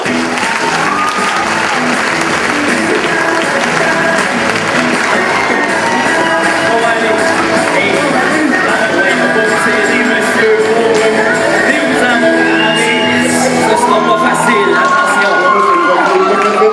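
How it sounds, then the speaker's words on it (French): A large audience at a Quebec comedy show, Opti Dieu Merci 2013, breaks into loud, sustained applause with cheering and shouts, a dense continuous roar of clapping that holds steady throughout. "une bonne main d'applaudissements pour Yvan Nadeau!"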